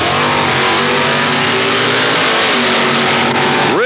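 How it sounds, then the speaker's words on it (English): The engine of a Plymouth Duster drag race car revs loud and steady on the starting line at a 1984 ET Superstakes drag race. It holds a dense, raspy roar with small pitch wavers and no voices over it. "the driver is clearing out their engines right on the starting line"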